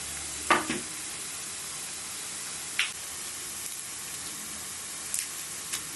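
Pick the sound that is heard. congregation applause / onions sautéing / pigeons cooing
onions sautéing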